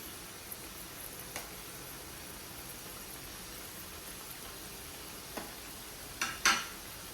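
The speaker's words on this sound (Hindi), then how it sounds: "अब ये साइड से भी इसमें कलर आने तक हम इसको फ्राई करेंगे।" Bhajiya fritters fry in hot oil with a quiet, even hiss that runs throughout, broken by a few soft clicks and a louder clatter near the end.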